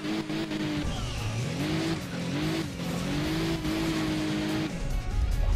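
A muscle car in the mobile game Hill Climb Racing 2 rolls downhill, its engine droning and rising and falling in pitch with brief tyre squeals, loud and continuous throughout.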